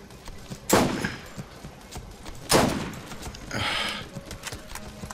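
Gunfire in the Borderlands video game: two sharp, loud shots about two seconds apart, each with a ringing decay, followed by a softer burst of noise.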